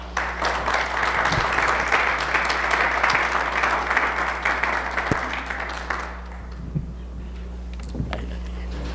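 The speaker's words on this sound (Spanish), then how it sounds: "me gustaría que todos nosotros le brindáramos un aplauso" A conference audience applauds steadily for about six seconds, a dense wash of clapping over a low hum, then the clapping thins and fades out, leaving the quiet room with a few faint knocks.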